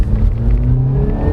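A 2014 Honda Accord 2.4S with CVT revs in sport mode using the paddle shifter, a loud, close, steady engine drone heard alone for a brief moment.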